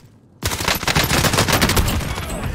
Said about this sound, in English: he's shooting me already.